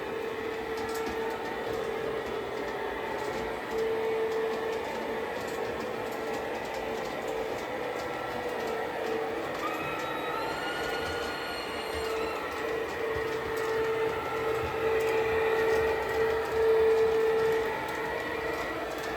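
An LGB model of a Rhaetian Railway (RhB) train rolls around a very small indoor garden-scale layout on an old controller, giving a steady mechanical running hum with a faint high wheel whine, close and continuous, no voices.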